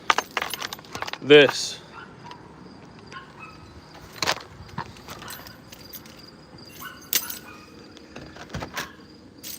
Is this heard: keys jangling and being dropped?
yes